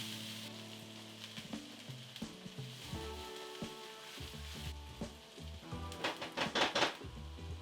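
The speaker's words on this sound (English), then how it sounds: "Saute these onions until they start to get some color." Onions with salt and black pepper sizzle and fry steadily in a pan, with occasional stirring clinks and scrapes growing busier toward the end; close and moderately loud, no voices.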